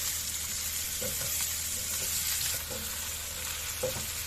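Cauliflower florets sizzle steadily in a kadai of hot oil, with a few soft scraping knocks from a spatula stirring them at intervals; no one speaks.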